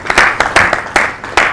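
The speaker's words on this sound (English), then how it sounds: "A round of applause for Shani." Audience applause at a quality assurance summit, a short burst of clapping from a crowd with uneven rhythmic peaks, moderately loud and close.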